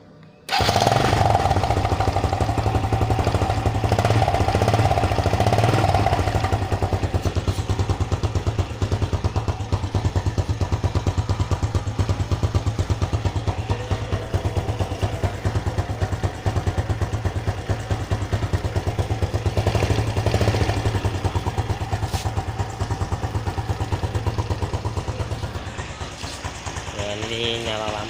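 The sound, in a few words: Honda Blade Repsol 110 motorcycle exhaust idling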